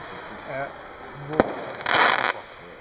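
Fireworks display in Czechia with a Fireball Thunder Titan salute firing: a sharp single bang followed by a louder, brief crackling burst, heard at moderate distance over background voices.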